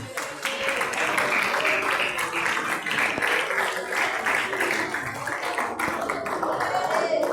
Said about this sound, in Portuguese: Vamos receber a serva de Deus com as palmas bem alegres para Jesus.